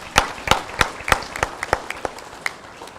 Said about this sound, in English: I want to ask you again to give them another round of applause.